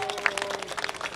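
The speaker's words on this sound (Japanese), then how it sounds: "もう一度大きな拍手をお願いします。" A crowd at an anti-nuclear rally in front of the National Diet in Tokyo claps briefly, a scattered, moderately loud burst of hand claps with distinct individual slaps.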